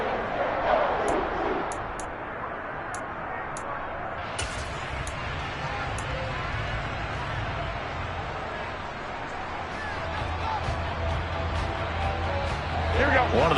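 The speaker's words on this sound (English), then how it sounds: "The crowd getting into it as we come up on a big third down." A football stadium crowd roars steadily through the fourth quarter of a Browns game ahead of a big third down, a dense, continuous swell of cheering that rises near the end, with an announcer talking over it.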